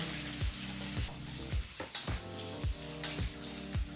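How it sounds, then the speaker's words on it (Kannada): Onion, green chillies and garlic fry in a pan for chutney, a steady close sizzle punctuated by regular rhythmic scraping strokes of a spatula roughly every half second. "ಈಗಿಲ್ಲಿ ಎರಡು ನಿಮಿಷಗಳ ಕಾಲ ಈರುಳ್ಳಿ ಹಾಗೆ ಮೆಣಸಿನಕಾಯಿನ ಭಾಳ ಚೆನ್ನಾಗಿ ಫ್ರೈ ಮಾಡಾಯಿತು"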